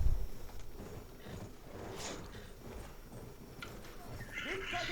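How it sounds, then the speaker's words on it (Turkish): A horse in the video game Battlefield 1, set in the Sinai Desert, whinnies and clip-clops close by amid ongoing game noise and distant activity. "Bir at var. O atı bir alalım."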